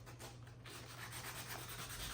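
Sanding a painted wood clock by hand with 220 grit sandpaper, a steady close rasping rub that carries on without a break, with no voices.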